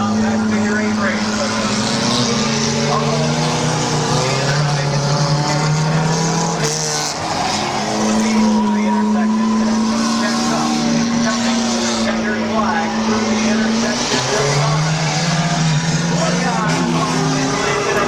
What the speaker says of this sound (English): 1 to go for Tedesco. 300 dollars on the line for the compact figure 8 race.